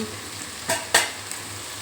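Okra frying in a pan with chili powder just added, stirred in two quick scrapes against a steady soft sizzle, close and fairly quiet with no voices.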